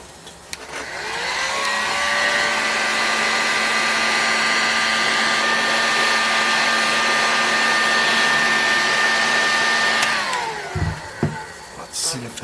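A heat gun heating a bearing housing on a Boca Bearing Fox 25BBRC, loud close steady whine and airflow roar lasting about ten seconds, then spinning down with brief clatter afterward.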